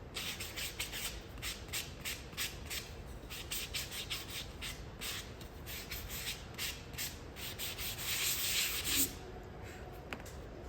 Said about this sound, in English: I'm gonna sand over behind me off the table so I don't get my surface all dirty.